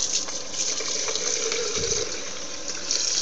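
Tap water runs steadily into an electric kettle in a home kitchen, a continuous close hiss and gush of filling with no talk.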